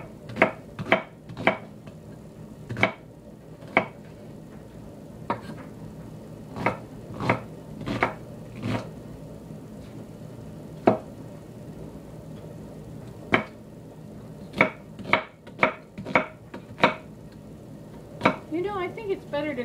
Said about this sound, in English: I think it's better to cut an onion